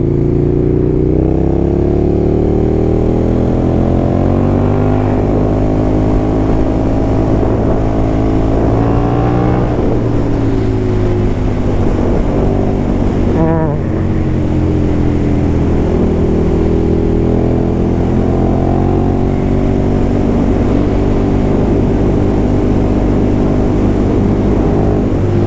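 A 2019 KTM Superduke R motorcycle rides in fourth gear, its engine droning loud and steady from start to finish with rising and falling pitch as the throttle shifts, plus wind rush. No voices.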